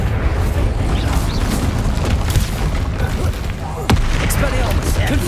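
Fire spell blasts from a Hogwarts Legacy duel, a dense, continuous roar of booming bursts with a sharp crack near four seconds, loud and sustained amid other spell effects.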